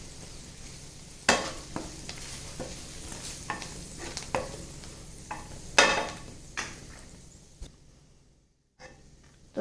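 Prepared masala being stirred into frying okra (bhindi) in a pan: close, intermittent scraping and clattering stir strokes over a soft sizzle, fading to near silence before a final knock.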